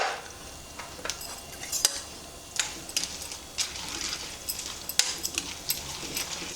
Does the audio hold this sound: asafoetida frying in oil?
yes